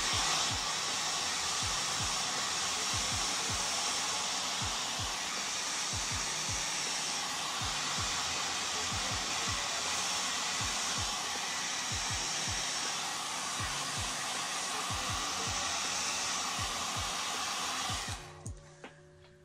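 Hair dryer blowing hair dry in sections, a loud close steady whooshing whine with faint rhythmic flutter as it moves, then switched off at the end.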